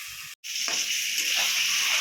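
Ground spinach paste with garlic, green chili and coriander sizzles steadily in a hot pan after a brief pause, a close, continuous frying hiss with no talk.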